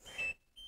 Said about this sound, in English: Door alarm, you can hear that right now.